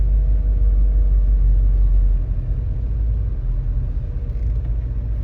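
Squarebody Chevrolet Suburban on the highway with a possible exhaust leak, its engine giving a steady low rumble heard from inside the cab, continuous and fairly loud with no talking.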